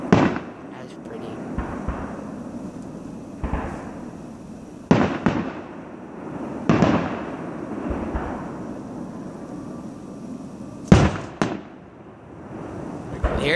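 Fourth of July fireworks in 2014 bursting at a distance, several sharp booms and crackling pops spaced a few seconds apart over a steady outdoor hum, with people chatting between the blasts.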